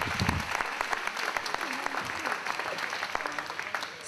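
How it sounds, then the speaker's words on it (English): Audience at a veterans memorial event at Bonanza Ville gives a round of applause: dense, continuous clapping from a crowd, close and lively, with a few scattered voices mixed in. "I think that deserves a round of applause."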